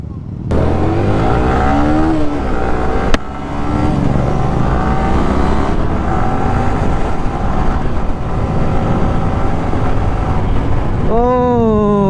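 A motorcycle rides along a road on a Sunday group ride, its engine a loud, steady drone throughout with slight shifts in pitch, and a short rising rev near the end.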